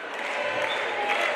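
An indoor wheelchair handball crowd in Brittany clapping and cheering, a dense wash of applause from many people filling the hall.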